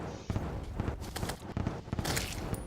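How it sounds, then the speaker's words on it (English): Distant explosions in the video game Terraria form a quick run of muffled booms and pops over about three seconds, with no talk. "Oh, some explosion noises over to the left of us here."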